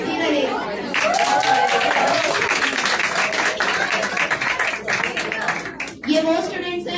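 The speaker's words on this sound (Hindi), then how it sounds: "तालियां बजती रहे." A crowd at a school Independence Day celebration claps in loud, sustained applause, with children's voices and chatter mixed into the clapping.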